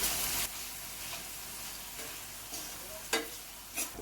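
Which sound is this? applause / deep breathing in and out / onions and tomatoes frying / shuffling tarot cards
onions and tomatoes frying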